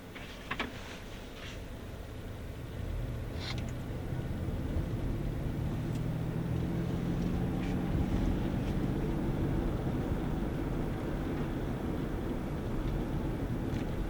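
Ford Mustang Mach-E electric SUV driving on the road, a steady low hum of tyres and rushing wind noise that builds after the first couple of seconds and stays constant, with no engine note.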